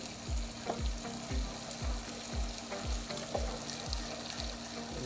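Butter stirred into hot salted-butter caramel sizzles continuously while a utensil scrapes through the thick mixture in a regular rhythm, about two strokes per second, close up.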